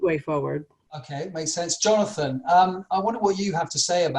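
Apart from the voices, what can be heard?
No everyday noises stand out.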